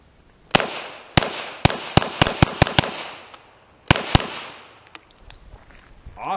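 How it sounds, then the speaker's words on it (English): A 1917 Mauser C96 Broomhandle pistol in 7.63x25, fired as a carbine at a range, cracks out about a dozen loud, sharp shots in quick irregular bursts, with ringing echoes between them and no talking. "burn up a few more rounds, get it kind of hot, because I really like shooting it as a carbine"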